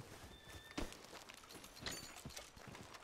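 A horse's hooves clip-clop in the video game Red Dead Redemption 2, with a short run of uneven hoofbeats over quiet background ambience.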